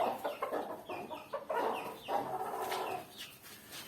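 Chickens cluck and chatter in a new coop, a close cluster of short overlapping calls in a quick, irregular rhythm, with no voices over them.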